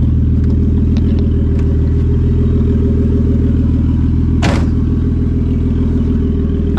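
A Nissan 240SX with a freshly straightened chassis drives along steadily, its engine drone continuous and close throughout, with light rattles early on and one sharp clatter midway.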